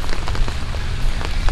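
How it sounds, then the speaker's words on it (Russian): Steady rain pours down outdoors at a feeder fishing championship in Adygea, mixed with falling wet snow, a dense, continuous patter across the whole stretch with no voices. "Уже час поливает дождь."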